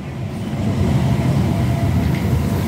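A Tyne and Wear Metro train at Jesmond station, heard as a steady, fairly loud low rumble that swells slightly and holds throughout, with no voices.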